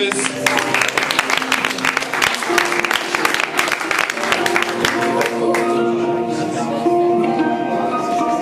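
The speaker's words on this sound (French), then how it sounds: "Applaudissements pour les terminales ES." An audience at a lycée charity run ceremony claps for the terminale ES students, a dense burst of applause that thins out after a few seconds, with a voice talking over the end.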